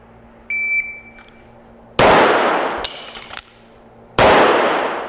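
A CZ Shadow 2 pistol fires two loud, sharp gunshots about two seconds apart, each with a ringing decay, after a brief electronic beep and some handling clicks.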